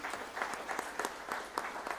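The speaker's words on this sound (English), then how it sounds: "Let's give a huge round of applause for all the lovely panelists here." A burst of clapping from a group, steady and fairly close, rising and falling slightly over a couple of seconds.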